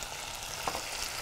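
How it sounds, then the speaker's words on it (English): Spring onions sizzle in a frying pan with a steady, close crackling hiss, one brief louder pop near the middle, and no talking over it. "The onions are sizzling away, lovely, begin to get a nice colour."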